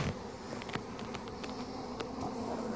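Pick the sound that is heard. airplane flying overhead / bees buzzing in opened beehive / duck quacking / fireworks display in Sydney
bees buzzing in opened beehive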